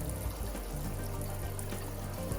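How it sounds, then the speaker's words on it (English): A tap runs steadily into a sink for a surgical hand scrub, a continuous close rush and splash of water with no talking. "I'm going to start by turning on my water."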